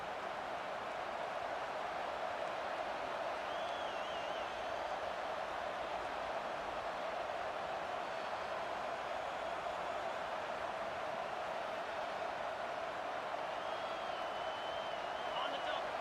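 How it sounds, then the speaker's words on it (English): Broad, steady roar of a stadium crowd in a Maryland versus Michigan State college football video game, building on a third-down defensive stand, constant and even throughout under a commentator's voice. "Decibels rising as the crowd gets behind this defense on third down"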